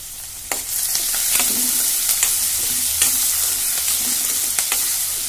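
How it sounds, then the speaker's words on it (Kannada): Carrot and potato pieces fry in a pan, a loud close sizzle with regular scraping stirs every half second or so, no one talking. "ಸ್ವಲ್ಪ ಹಿಂಗೆಲ್ಲ ಹುರ್ಕೋಬೇಕು"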